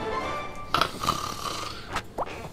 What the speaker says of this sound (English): Okay, now he's actually snoring.